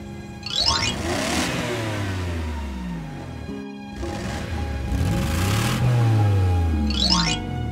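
Revving of a cartoon Hummer engine, with rising and falling roars and whooshing sweeps, loud and continuous apart from a short pause midway.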